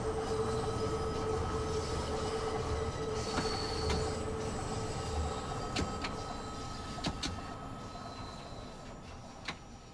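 A London Underground train in Train Sim World 2 runs between Elephant & Castle and Harrow & Wealdstone, with a continuous rolling rumble, a sustained wheel squeal tone and sharp clicks over rail joints, and no speech.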